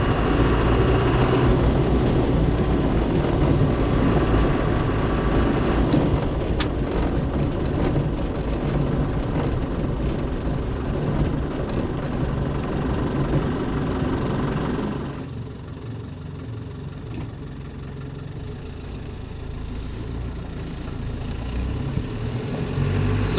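The 2.5-liter turbo diesel engine of a restored 1992 Land Rover Defender drives along with a continuous rumble and roar, steady for about fifteen seconds before easing to a quieter drone.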